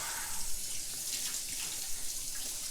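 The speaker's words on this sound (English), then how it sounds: "All right, so now you just rinse off the lather." Running tap water splashing over hands as soap lather is rinsed off at a sink, a steady close hiss of flowing water with small splashy changes throughout.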